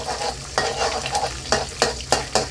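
Bamboo shoots and eggs stir-frying in a pan, a steady sizzle broken by about six sharp scraping strokes of the spatula, close and clear, no talk.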